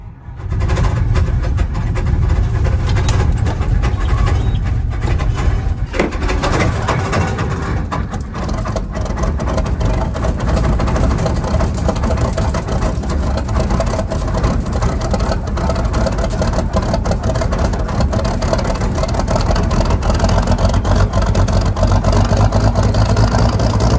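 A vehicle engine idles steadily while warming up on a milo harvest farm, a loud continuous rumble that settles in after a brief start and holds an even drone throughout.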